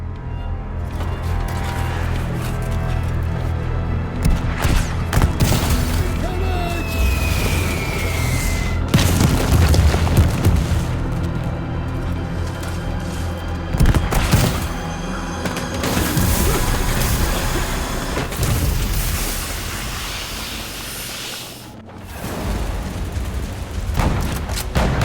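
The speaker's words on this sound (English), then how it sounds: "Artillery fire!" Artillery fire in the war strategy game War Hospital, heavy booming blasts and rumbling impacts repeating over a dense battlefield soundscape with sustained low rumble throughout.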